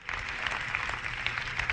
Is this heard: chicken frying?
no